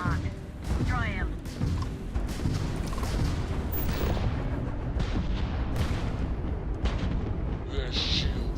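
Ship weapons fire in space combat in the video game Starfield, with rapid booming blasts and rumbling impacts throughout, while radio-style voices speak over the barrage.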